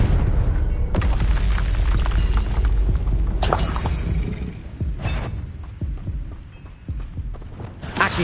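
Blasting-spell explosions in the Hogwarts Legacy video game: deep booming bursts over continuous low rumble, with several sharp broadband blasts near the start, the middle and later on, each followed by crackling debris.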